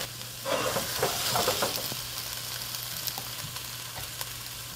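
A lotus root (renkon) and kabocha squash stir fry with ketchup, balsamic and shiokoji sizzles in a pan, reducing close and steadily, with a stirring scrape near the start.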